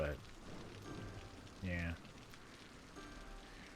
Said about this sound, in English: Rainy days are nice, man.